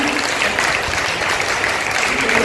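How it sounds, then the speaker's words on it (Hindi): A congregation claps loudly together during a healing prayer service in St. Sebastian's Church, Delhi: a dense, sustained wash of applause that stays strong and steady from start to finish. "आज जोर से ताली बजाकर"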